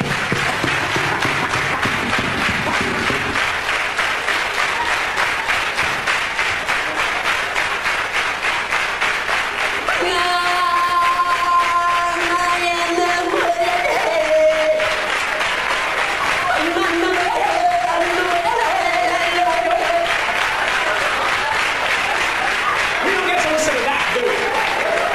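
A stand-up comedy audience claps continuously for about twenty-five seconds, a dense, loud and steady wall of applause with some music-like tones mixed in partway through.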